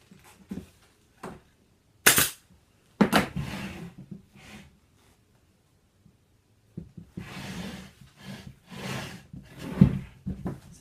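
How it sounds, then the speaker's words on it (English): Sharp staple gun shots punch into fabric being upholstered over a Parsons chair, several separate loud snaps spaced apart among handling, rustling and scraping of cloth and wood. "And pull it around the side and put one staple in, and then do the other side."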